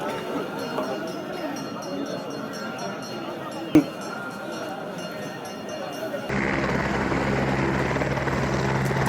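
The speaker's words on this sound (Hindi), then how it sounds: "पवन हंस द्वारा फाटा से केदारनाथ के लिए हेलीकॉप्टर कनेक्टिविटी" A Pawan Hans helicopter on the Phata to Kedarnath shuttle drones steadily, with a sharp clink partway through and the rotor roar growing fuller and louder near the end.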